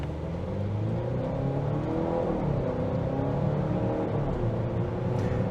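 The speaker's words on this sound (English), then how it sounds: "I'm going to do the best I can to do this acceleration test" A 2023 Volvo XC60 B5 pulls away from a standstill, its engine note rising steadily in a continuous droning rumble and whir heard from inside the cabin, with no speech over it.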